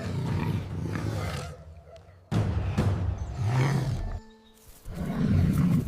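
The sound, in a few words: lion roaring, animated story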